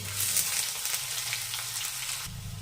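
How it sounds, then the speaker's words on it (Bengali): Chopped onions hiss and crackle in hot mutton fat and oil for chickpea ghugni, a steady bright sizzle close by with no talking. "এবার দিয়ে দেবো পেঁয়াজ কুচি।"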